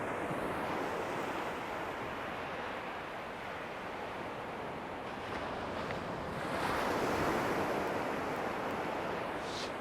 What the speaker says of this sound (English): that you could actually hear the sea, because it sounds wild